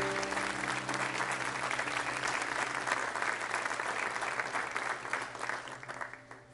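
Church congregation applauding during an evening worship service, a full room of clapping hands over a faint sustained organ or keyboard tone, steady at first and tapering softer toward the end.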